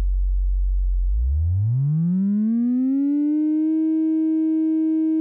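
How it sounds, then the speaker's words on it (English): A steady synthesizer tone from a Behringer 1047 multimode filter/resonator, starting as a low hum and gliding smoothly upward in pitch before settling on a sustained clean note, loud and alone. "A sine wave has no higher harmonics and sounds very pure and clean."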